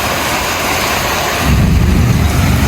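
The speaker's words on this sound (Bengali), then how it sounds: "কি পরিমাণ যে ঝড় শুরু হয়েছে" Stormy wind and rain outdoors make a loud, continuous wash of noise, and a deeper rumbling gust swells in about halfway through and keeps going to the end.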